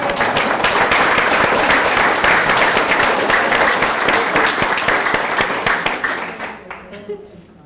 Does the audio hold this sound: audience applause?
yes